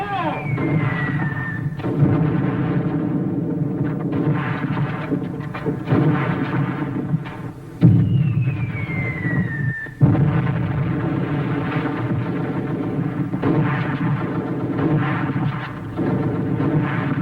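Artillery fires in a war film, a continuous heavy rumble of distant booms and thuds that sits loud and dense under the soundtrack, with a couple of sharper impacts.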